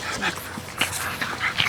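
French Bulldog puppies at play give small yips, whimpers and panting in quick irregular bursts, close by amid light rustling.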